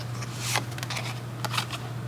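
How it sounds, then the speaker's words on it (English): Tea leaf reading cards being shuffled during a pick-a-card prediction reading, giving two short papery riffling bursts over a steady low electrical hum, close and fairly quiet. "Shuffle out a few more tea leaf for you guys."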